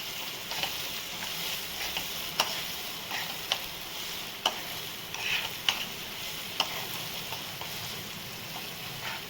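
Coarsely ground sesame seeds roast in hot oil in a pan for Gujarati stuffed brinjal curry, giving a soft, steady sizzle broken by occasional faint clicks and taps, with no talking.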